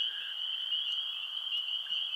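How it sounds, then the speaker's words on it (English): Crickets chirp as a sound effect, giving a continuous high, steady trilling drone that is faint and even throughout, with no voices. "crickets."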